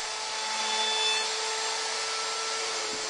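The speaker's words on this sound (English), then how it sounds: "Now routing the bottom edges of my apron rails with a 1/4 inch round over router bit." A router fitted with a 1/4 inch round over bit runs along the bottom edges of wooden apron rails, giving a continuous loud, high-pitched whine with a steady hiss throughout.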